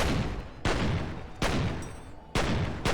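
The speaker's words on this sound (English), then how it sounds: "I tried to shoot the grenade out of there" Gunfire in F.E.A.R. played on console: four sharp, loud gunshots at uneven intervals, each with a long decaying echo tail, with no voices.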